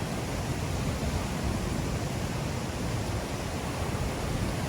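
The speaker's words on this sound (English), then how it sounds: "So this is the whirlpool we were looking at from up top." Whirlpool rapids on the Niagara River at Whirlpool State Park: a constant, broad roar of rushing water, steady and loud with no breaks, heard from nearby with no talking.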